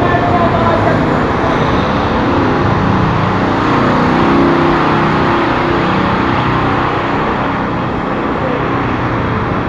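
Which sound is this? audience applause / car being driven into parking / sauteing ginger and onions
car being driven into parking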